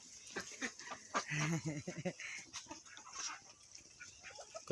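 Chickens cluck in short bursts nearby, mixed with a person talking and faint farmyard background noise.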